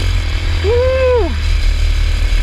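A cheap Amazon dirt bike engine runs while being ridden outdoors, giving a steady low rumble. A brief rising-and-falling whine swells over it midway.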